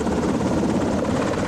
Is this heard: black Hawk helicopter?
yes